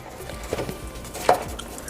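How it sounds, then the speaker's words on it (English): Chopped beef being broken up in a pot for chili, giving a few soft scraping and thudding utensil strokes, one sharper clack near the middle, moderately close with no talking. "I'm going to break up this chopped meat a bit before I add the seasonings."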